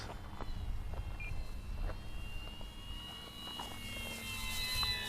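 An E-Flite RV-7 RC model airplane of about 1.1 m wingspan flies slowly with flaps lowered, its electric motor giving a steady distant whine under outdoor wind rumble.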